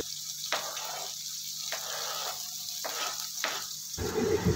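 Chopped onions frying in a pan for paneer do pyaza give a soft, continuous sizzle, broken by several short scraping stirs at regular intervals, with a louder clatter at the end.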